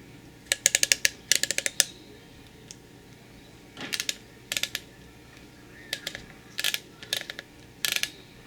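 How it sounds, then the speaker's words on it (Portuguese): Aperture ring of a classic Nikon 50mm f/1.4 Nikkor lens turned back and forth, giving bursts of crisp, rapid clicks in short clusters, close and distinct over quiet background. "Aqui dá para ver bem o diafragma abrindo e fechando."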